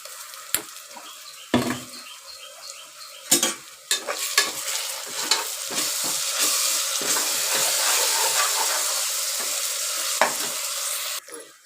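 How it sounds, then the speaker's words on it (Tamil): Ginger garlic paste fries with onions in a pan for chicken biryani. A few sharp clanks of a stirring utensil give way to a loud, continuous sizzle, with no talking. "வெங்காயம் இந்த அளவுக்கு வதங்கினதுக்கப்புறமா இதில் இஞ்சி பூண்டு பேஸ்ட்டு சேர்த்துக்கலாங்க."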